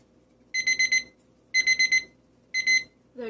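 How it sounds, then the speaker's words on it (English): A five-minute kitchen timer rings in three short bursts of rapid electronic beeping, each burst lasting about half a second and separated by brief pauses, loud and close in an otherwise quiet room. "There goes my 5 minute timer."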